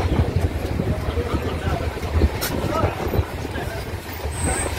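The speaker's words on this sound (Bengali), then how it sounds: "ট্রেন রানাঘাট স্টেশন ঢুকছে।" A local train pulls into Ranaghat station, a steady rumbling roar of wheels and carriage noise with low-frequency hum throughout, loud and continuous with some clattering.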